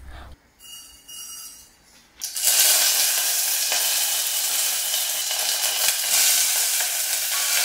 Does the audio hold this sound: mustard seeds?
yes